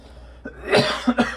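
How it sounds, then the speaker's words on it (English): A person clears their throat several times in a quiet room, with short raspy bursts separated by brief pauses and no talk. "I apologize, I have to clear my throat a lot."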